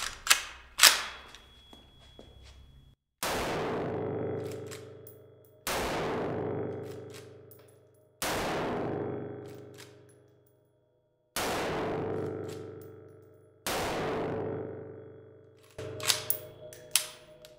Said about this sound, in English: Let's take some shots and see how she does.